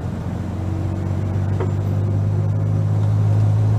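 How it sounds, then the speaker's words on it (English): A Dacia 1310 car pottering along at about ten miles an hour in second gear, with a steady low engine hum and rumble heard close and continuous. "we're pottering along at 10 miles an hour in second gear"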